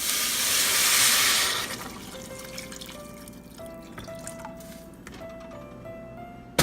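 Broth poured from a carton into a pan of mixed vegetables on a home stove, a loud splashing gush at first that thins into a soft, steady trickle and scattered drips.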